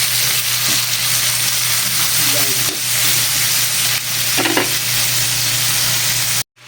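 Tomatoes being stirred into a frying sinugaok dish in a Batangueño home kitchen, a steady loud sizzle and hiss with faint scraping of the spoon, continuing without talk before stopping abruptly.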